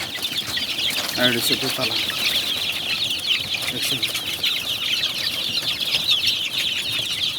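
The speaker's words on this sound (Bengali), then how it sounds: "মুরগিগুলো একটু ভয় পেতেছে" Backyard desi chickens in a small two-tier coop at night cluck nervously and intermittently, close by, while someone talks over them.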